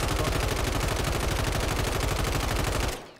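Rapid automatic RAM-7 rifle fire from Warzone 3 rattles out as a steady, loud, continuous burst of evenly spaced shots for about three seconds, then stops abruptly.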